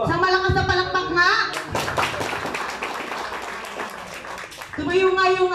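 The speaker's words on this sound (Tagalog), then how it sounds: "Sa malakas na palakpak na!" Loud applause from a youth ministry gathering, with a burst of many clapping hands filling the middle stretch and people talking before and after it.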